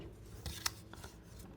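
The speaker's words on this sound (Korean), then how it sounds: "일자로 뺀 부분 가운데쯤에서 가위로 잘라서 반으로 자르고" Scissors snip paper during a papercraft build, one sharp close cut among soft rustling, very quiet, with no talking.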